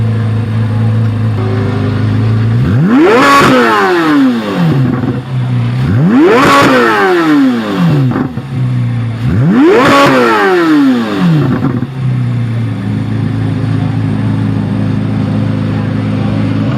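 A Chevrolet Corvette C8 Z06 engine idles loudly nearby, then revs hard three times, each rev rising in pitch before dropping back to a rumbling idle.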